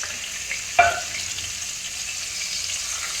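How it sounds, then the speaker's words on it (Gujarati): Green garlic hits a pan of hot oil with turmeric and asafoetida, giving a sharp burst of sizzle that settles into a steady frying hiss, close by with no talking. "હવે આપણે આ જે લીલું લસણ લીધું હતું એ નાખી દઈશું"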